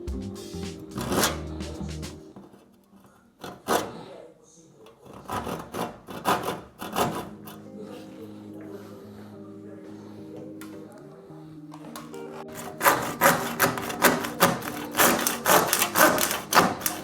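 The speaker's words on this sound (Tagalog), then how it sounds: "Subukan kong putulin na lang ng cutter siguro." A cutter knife slicing through a thin plastic part, heard as a run of dry scraping, rasping strokes that start and stop in bursts, with background music playing underneath.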